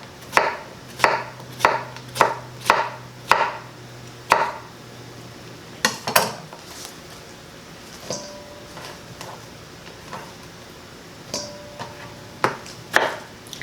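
A knife chopping vegetables into small cubes for an Asian cabbage noodle salad, a run of crisp, evenly spaced chops on a board, then sparser cuts with occasional light clicks.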